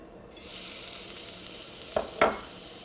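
Grated coconut hits a well-heated pan with an abrupt, loud sizzle that holds steady, and a couple of short scraping stirs come near the end. No one speaks.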